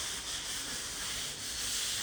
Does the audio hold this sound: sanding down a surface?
yes